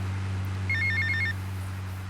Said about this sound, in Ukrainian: П'ята місія у нас починається теж з телефонного виклику.